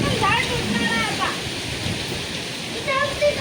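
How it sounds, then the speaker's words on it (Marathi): Heavy monsoon rain pouring down during a storm in a Konkan village, a dense steady hiss close by, with a few faint voices rising briefly over it. "जोरात पाऊस पडतोय इथं."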